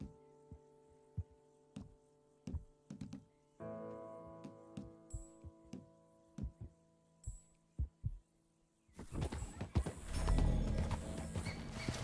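Horse hooves clop in sparse, irregular steps in Red Dead Redemption 2, with a low hum and a sudden burst of louder game noise at the end.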